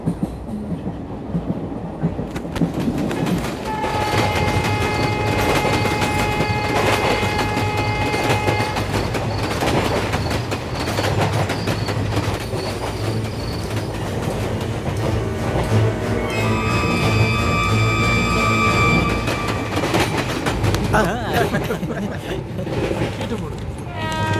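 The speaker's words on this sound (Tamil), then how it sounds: "இவங்க என்னன்னா இவ்வளோ சுலவா ட்ரெயினை ஓட்டுறாங்க" A passenger train runs steadily along the rails with continuous rumble, rhythmic clatter and occasional high wheel squeal, loud and close, while people talk over it.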